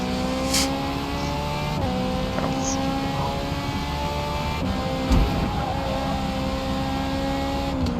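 A race car engine drones steadily in a racing video game at Hockenheim during a 12-hour endurance event. The engine note holds constant and loud, with a brief bump near the middle.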